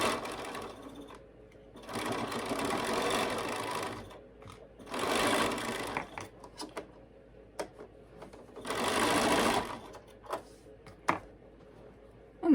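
Sewing machine stitches quilt block pieces together in three bursts of rapid whirring, each a couple of seconds long, with quiet handling clicks and taps between runs; close and moderately loud.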